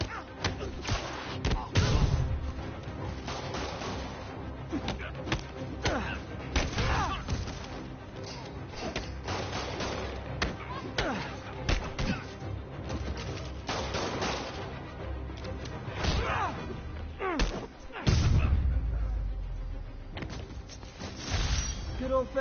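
Gunfire and impacts in the Spider-Man video game during a street holdup, scattered shots, thuds and crashes over busy game noise, with voices speaking throughout.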